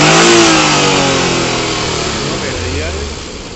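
A Suzuki Alto 800 engine revs loudly up close after its silencer is repaired with new bolts, a strong rising roar that eases into a steadier running hum, with people talking over it.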